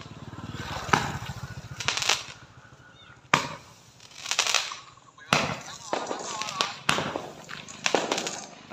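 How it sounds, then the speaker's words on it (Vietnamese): Fireworks go off around a house on New Year's Eve, with repeated loud bangs and crackling bursts at irregular intervals, some near and some farther off, while people talk and exclaim between blasts. "Chuẩn bị bắn hoa, bắn hoa rồi."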